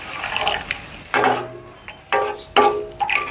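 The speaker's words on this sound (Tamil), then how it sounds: "கொஞ்சமாக தண்ணி ஊற்றிக்கிறேன்." Water is poured in several short splashing bursts into an egg masala curry being cooked as a gravy, each pour close and clear, with quiet pauses between them.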